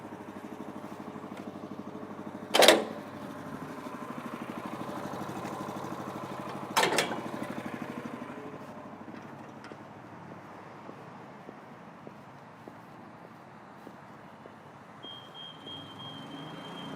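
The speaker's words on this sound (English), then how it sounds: "we'll start the machine, push the auto leveling function, which is the raise function, and the machine will level itself" An Athena 850 HE aerial work platform starts and runs its auto-leveling raise function, giving a steady mechanical drone with two brief louder bursts early on, then a quieter continuous hum.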